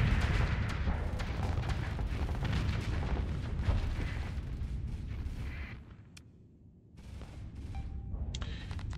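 Ships' weapons firing in a Starsector space battle, with dense, continuous booming gunfire and explosions up close before a brief lull and renewed scattered shots.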